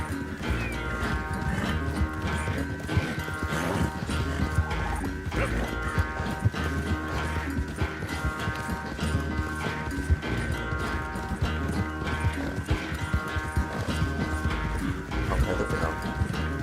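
A horse gallops in the video game Red Dead Redemption 2, its steady hoofbeats running throughout beneath dense, loud game music and effects.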